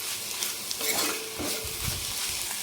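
Ponnaganti greens fry with coconut chilli powder in a pan, giving a soft continuous sizzle under a few metallic scrapes and clinks of a spoon against the vessel, close and fairly quiet with no voices.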